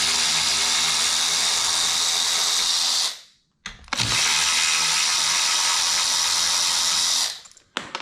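Loud, high-pitched whine of a power tool removing the brake caliper bolts on an Inmotion RS electric scooter, running in two long bursts separated by a brief stop, with no talking.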